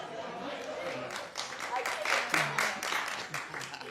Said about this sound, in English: Oh, go ahead and clap.